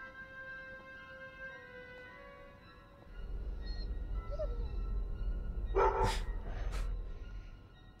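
A dog barks and yelps in a couple of short, loud bursts near the end, following a low rumble of background noise, with faint whimpering before.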